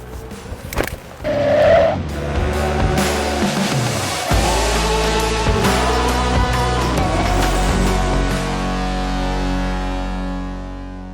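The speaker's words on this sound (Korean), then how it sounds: "이 아우디의 유명한 과트로를 이용해서 여러 가지 주행 리뷰를 한번 진행해 보도록 하겠습니다" Audi RS 6 Avant quattro wagon driving in the rain. A loud engine roar rises and falls through the gears with brief tire noise, close and dominant, then settles into a steady drone.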